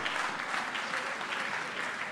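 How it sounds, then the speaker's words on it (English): Audience at a diocesan choir concert clapping together, a dense, even roar of applause holding steady and fairly distant throughout. "Let's clap for all of them."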